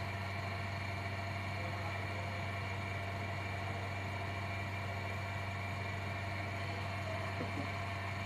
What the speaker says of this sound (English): When you put Polytron in your engine, you'll run the engine for some few moments.